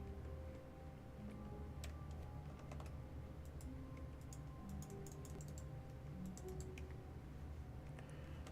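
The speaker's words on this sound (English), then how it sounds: "He pushes buttons on a keyboard." Keyboard typing in The Stanley Parable video game: a steady run of soft, close key clicks over a low ambient office hum, with no voices.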